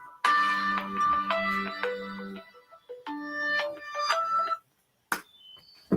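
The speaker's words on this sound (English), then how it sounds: "my phone's ringing." A mobile phone rings during a live online sale, its melodic electronic tone repeating in two clear bursts before cutting off, followed by a brief short chirp.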